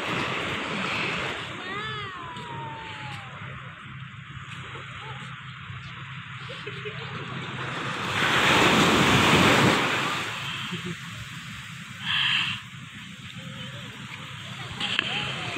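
Ocean surf rolls steadily onto a beach at a resort, a broad continuous wash that swells louder midway, with wind buffeting the microphone and people talking over it now and then.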